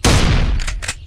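A single loud gunshot booms in the Duck Hunting 3D bird-shooting game, trailed by a couple of fainter short bursts as it fades.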